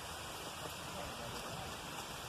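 Steady broadband rush of a distant waterfall heard from a forest trail, a continuous even roar with no distinct events.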